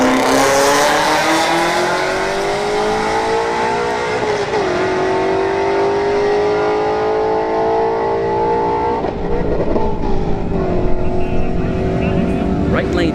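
A Ford Mustang S550 Shelby GT350 roars down a drag strip at a street-racing night, its engine note climbing steadily through two gear shifts around four and nine seconds, loud and sustained beside other cars.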